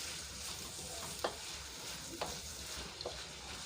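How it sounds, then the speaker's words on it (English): Cauliflower cooks in a pan for a coconut milk sauce, sizzling and frying steadily up close, with a few sharp stirring scrapes against the pan. "so I've added my cauliflower so I can also cook a little"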